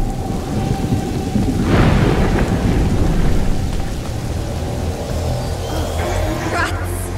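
Thunder rolls through a rainstorm in A Plague Tale: Innocence, a deep rumbling crash swelling after about two seconds over a steady heavy hiss of rain, loud and sustained, with faint voices underneath.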